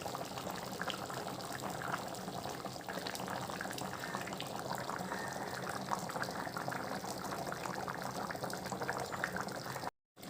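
Vegetable kurma bubbling steadily in a covered pot after hot water is added, a continuous close simmer with dense popping and hissing across the whole stretch, cutting off abruptly near the end.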